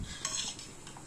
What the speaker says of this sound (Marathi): असं हलवत राहायचंय म्हणजे मग तांदूळ खाली बसत नाही आणि खीर लागत नाही.